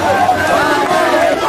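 A large crowd in Bunia, Ituri, welcomes the head of government with a dense, loud roar of voices, shouting and babble, with no individual speech standing out.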